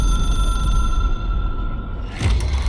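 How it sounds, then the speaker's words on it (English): A telephone in the video game Control, an old phone treated as an object of power, rings with a sustained electronic, bell-like tone over a low rumbling hum, loud and close, with no speech. "It is a phone. It's an object of power."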